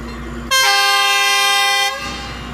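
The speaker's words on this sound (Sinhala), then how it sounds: "දැන් කෝච්චිය යන්නේ" A departing train sounds one long, loud horn blast lasting over a second, standing out sharply against quieter background noise before and after.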